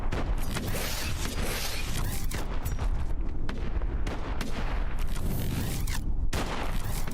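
Rapid gunfire in a video game, with dense, loud, repeated shots and blasts that continue without a break and have no talking over them.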